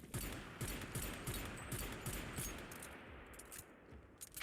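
Rapid bursts of automatic gunfire in the survival shooter Once Human, a steady run of close, evenly spaced shots for the first few seconds, thinning toward the end over a busy game background.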